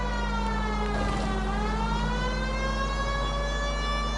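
A police car siren in the video game LA Noire wails continuously and loudly with a rising-and-falling tone, over a steady low engine drone, without speech.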